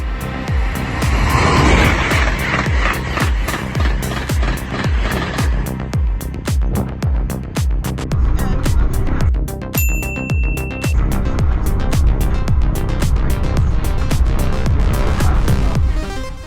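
The new Amtrak Acela high-speed train rushes by at speed near Mansfield, a loud sustained roar punctuated by rapid rhythmic clacks of wheels over rail joints, with a brief high whine partway through and no talking.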